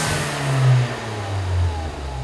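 A 2015-2022 Ford Mustang engine fitted with a Turbosmart dual-port Kompact blow-off valve fires up and settles into a steady idle, with a low rumbling drone and a slight swell in revs, close and alone.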